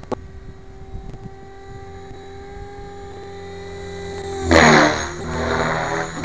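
T-Rex 550 flybarless RC helicopter in idle-up, its rotor whine holding steady before a loud, airy roar surges in as it performs a tail slide, then eases and builds again.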